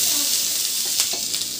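Two finely chopped onions sizzle in butter in a pan, a steady bright crackle with a few louder pops and scraping stirs, close up.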